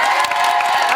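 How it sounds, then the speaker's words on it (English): A television studio audience bursts into loud, dense applause with cheering mixed in, filling the whole short moment. "Give him a round of applause!"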